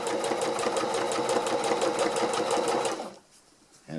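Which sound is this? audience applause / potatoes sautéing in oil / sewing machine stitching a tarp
sewing machine stitching a tarp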